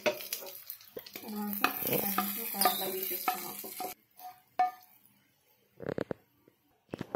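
Food frying in butter in a pan, stirred back and forth until golden, with steady sizzling and scraping strokes that thin out and stop partway, leaving a few faint clinks and bursts afterward.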